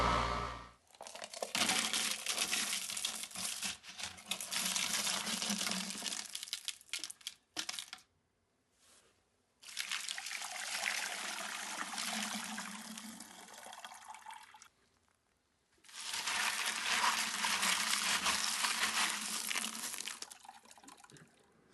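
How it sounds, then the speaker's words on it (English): Tumbled Leland Blue slag glass is rinsed with water over a bucket, heard as three long stretches of splashing, rushing water with the stones rattling, separated by brief pauses. "I rinse these 3 or 4 more times over the bucket because I don't want any slurry going down my sink."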